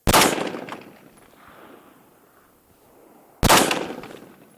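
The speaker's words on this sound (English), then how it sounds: "let's get these first shots just done" Two loud, sharp gunshots from a Radical Defense MK1 Mod 1 14.5-inch patrol rifle, fired about three and a half seconds apart, each followed by a ringing decay.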